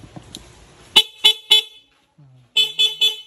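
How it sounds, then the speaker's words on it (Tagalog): A loud electric scooter horn sounds in two quick sets of three sharp, bright beeps, with a short pause between the sets. "may busina na malakas na."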